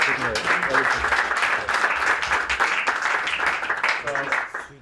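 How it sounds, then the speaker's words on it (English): Applause rises from a conference audience at a tech session, an even patter of many hands clapping, with voices and murmured talk mixed through it from start to finish. "So I want Philip and Sebastian to get a round of applause for everyone here."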